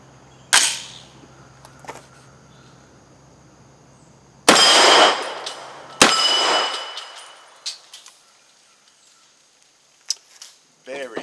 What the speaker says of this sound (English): I sure hope my powder coated bullets do the trick.